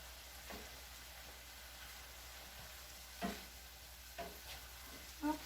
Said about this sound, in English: Now I'm going to add my peas. I'm going to gently toss them together.